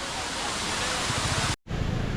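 A waterfall rushing nearby, a dense, steady roar of falling water that fills the scene, cut briefly by a moment of silence before resuming just as loud.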